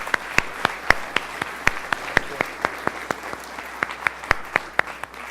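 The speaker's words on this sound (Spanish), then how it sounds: "caluroso aplauso a nuestros ponentes" A conference audience applauds the speakers at the close of a session on urban management and geotechnology, with a small crowd's separate claps sounding at a steady, fairly sparse rhythm for several seconds.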